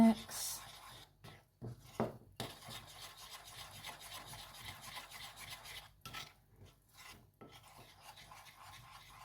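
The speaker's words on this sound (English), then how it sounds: "Give it a mix." Melted butter is stirred into flour in a bowl for a peach melba panna cotta base, giving close, gritty scraping and rasping strokes in an uneven rhythm with a few soft knocks.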